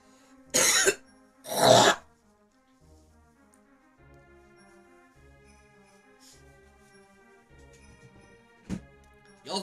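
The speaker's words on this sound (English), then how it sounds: "That was a greasy cough." Two loud, rough coughs about a second apart ring out near the start, followed by quieter video game music and a faint sharp sound toward the end.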